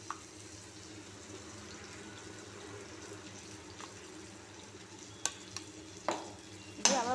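Onion, ginger and garlic paste frying in a pan as it is stirred, a soft steady sizzle with faint scraping, then a few sharp clinks of the utensil and a louder burst of sizzling near the end.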